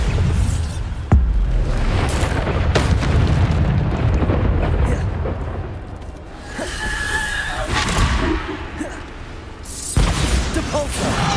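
Bombarda explosion spell cast in the video game Hogwarts Legacy, with loud booming blasts and whooshes in dense, continuous combat noise and sharp hits near the start and end.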